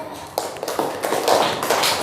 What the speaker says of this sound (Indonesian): Ustaz berkata, tepuk tangan.